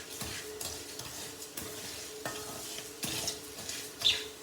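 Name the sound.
roasting coriander seeds, chana dal, urad dal and cumin in oil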